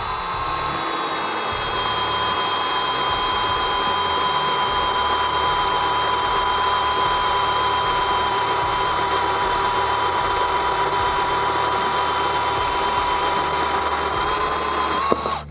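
A compact bandsaw cuts through the threaded end of a 1-inch galvanized steel bolt, giving a loud, steady high-pitched whine and grinding that holds evenly for the whole stretch before stopping abruptly at the end.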